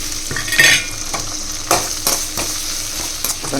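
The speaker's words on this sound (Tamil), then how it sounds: "வெங்காயம் வணங்கினோடனே தக்காளி ரெண்டு போட்டுங்க" Tomatoes fry with small onions, garlic and fenugreek seeds in oil, a steady close sizzle broken by several loud spoon-scraping stirs against the pan, no speech.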